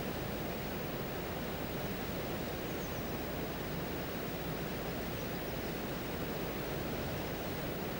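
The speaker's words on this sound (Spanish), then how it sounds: "Todo un rosario de cascadas, arroyos y manantiales vierte al río desde las alturas y se incorpora al caudal" Mountain cascades and streams pour down into the Upper Tajo river, a steady, dense rush of falling water that stays even and unbroken throughout, with no voices.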